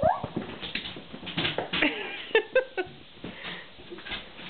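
Diesel the dog whimpers and yips in short excited bursts, close by, with a few higher-pitched cries, while a person talks quietly in the background.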